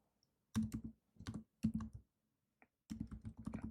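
Computer keyboard keys tapped in short clustered bursts while typing a terminal command, crisp close-up clicks separated by brief pauses, with a final quick run of keystrokes.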